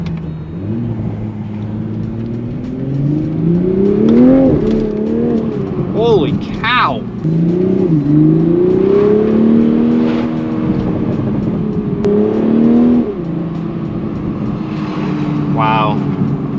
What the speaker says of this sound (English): The car is so smooth. And it's loud.